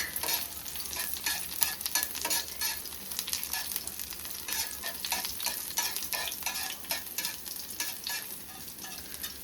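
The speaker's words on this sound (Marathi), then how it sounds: "इथे आमची कोलंबी फ्राय होते. तडका द्या लसूण आणि कढीपत्त्याचा." Prawns frying with a garlic and curry leaf tempering on a village wood-fired stove in the Konkan, a soft, faint sizzle broken by repeated scraping and clinking strokes of stirring.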